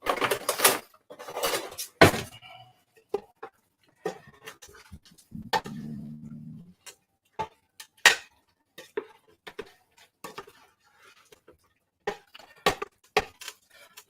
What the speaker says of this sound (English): Just want to stir this up and get all that cheesy tomato goodness all over these rotini